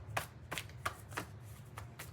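A deck of playing cards is shuffled close by, a series of about six quick riffling bursts spaced evenly apart, soft and alone.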